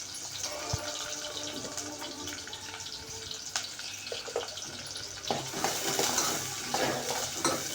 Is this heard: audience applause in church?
no